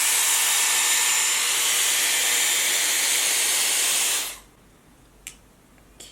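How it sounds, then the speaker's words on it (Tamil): A Dyson round volumising brush blow-drying hair gives a loud, steady rush of air for about four seconds, then cuts off abruptly, followed by a couple of faint clicks in near silence. "இப்போ இது மொத்தமாக எடுத்து நம்ம ப்ளோ ட்ரை லைட்டாக பண்ணிக்கலாம்."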